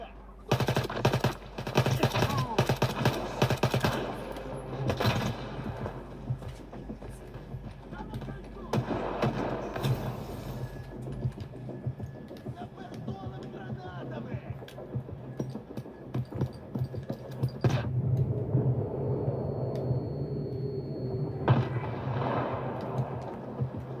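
Rapid gunfire and grenade explosions in the video game S.T.A.L.K.E.R. 2, played on low graphics settings. Dense bursts of shots crackle through the first half, followed by sparser blasts and rumble, with a voice talking over the action.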